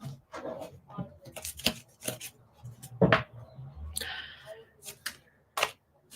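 Tarot cards being shuffled in quick riffles and flicks, with a voice speaking intermittently over the shuffling.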